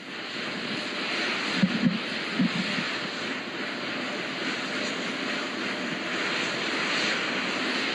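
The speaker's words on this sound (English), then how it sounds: "Those are auxiliary power units, high-speed turbines, which provide pressure to hydraulic pumps that steer the RS-25 engines." High-speed auxiliary power unit turbines on the Artemis II rocket driving the hydraulic pumps that steer its RS-25 engines, heard as a steady, even roar with a hissing edge throughout, with no talking.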